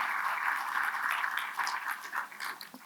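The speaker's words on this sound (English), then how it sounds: "So please give them all a round of applause for joining us today." An audience at a SXSW panel claps in a soft, steady wash of applause that stays even before thinning out toward the end.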